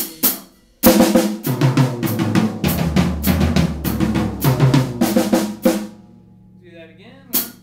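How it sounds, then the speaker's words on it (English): Drum kit fill moving around the toms from the floor tom, a quick run of hard tom hits over a steady low bass drum pulse, close and loud, ending with a cymbal crash after a short gap. "I just want to travel down the toms"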